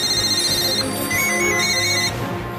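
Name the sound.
telephones ringing in an office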